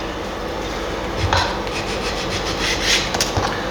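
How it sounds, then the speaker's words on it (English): Sandpaper rubs against wood on a Japanese sanshin, making a steady close scratchy hiss with a few slightly louder strokes. "it's kind of a little bit harder with sandpaper, but you're much more in control."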